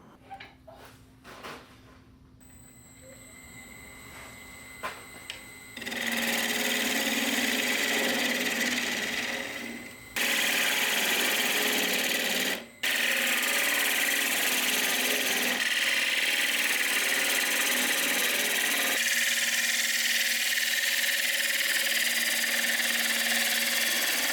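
A wood lathe turns a spruce bowl blank, starting as a faint hum before settling into a loud, steady broadband hiss and whir of cutting that runs for most of the stretch with a couple of short breaks.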